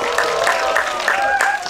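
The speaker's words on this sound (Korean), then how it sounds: "박수로 환영해 주세요." An audience applauds at a Korean movie stage greeting for a film screening, a brief burst of clapping from a crowded theater mixed with a presenter's voice over it.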